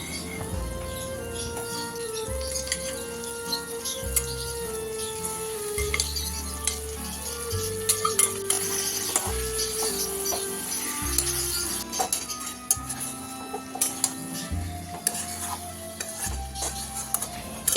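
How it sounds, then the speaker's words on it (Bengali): Marinated chicken pieces for Kolkata-style chicken biryani fry in hot oil with a steady sizzle and occasional stirring, mostly masked by prominent background music with a stepping melody and bass throughout. "ভাজা হয়ে এলে এতে ঢেলে দিতে হবে একে একে ম্যারিনেটেড চিকেনের পিসগুলো"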